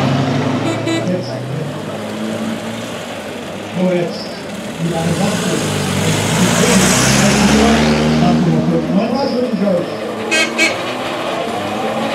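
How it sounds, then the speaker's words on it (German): A 4.6-litre Corvette drives past at the Horch Klassik classic car event in Zwickau, its engine a steady loud rumble that swells toward the middle, with crowd noise and talk in the background. "Aber jetzt eine Korvette."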